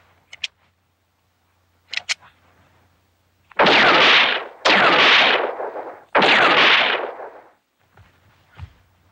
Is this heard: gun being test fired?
yes